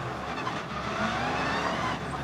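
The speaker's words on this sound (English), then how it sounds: "But listen to that V8 screaming" Onboard a Ginetta GT4 race car at Brands Hatch Indy, the V8 engine screams loud and close, holding a steady high-revving roar throughout.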